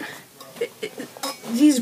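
Camping mess kit pots, an MSR Seagull and a Stanley set, clink and knock against each other in a few short metallic taps, close and fairly loud, mixed with a person's speech.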